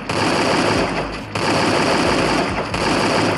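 A gold AK rifle in the Free Fire video game fires in long, loud, rapid automatic bursts, with a brief pause between each stream of shots and no voices over them.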